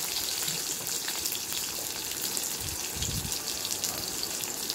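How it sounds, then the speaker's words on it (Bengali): Eggplant pieces frying in a pan of hot oil, a steady broadband sizzle that holds evenly throughout, close and fairly loud, with no voices. "বেগুনটা দিয়ে দিলাম। বেগুনটা বেশিক্ষণ ভাজতে লাগবে না, একটু ভাজলেই হয়ে যাবে।"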